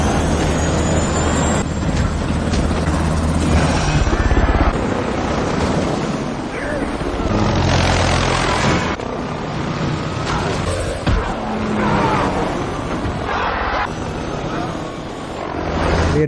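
A helicopter in the film Spectre drones with a whooshing rotor wash, mixed with gusty wind rumble that rises and falls across the recording.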